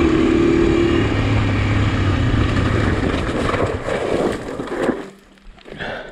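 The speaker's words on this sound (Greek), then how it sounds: "Σκαρφαλώνει το μηχανάκι." Honda AX-1 motorcycle climbing a dirt road, its engine droning loudly and steadily up close before the revs drop and fade near the end.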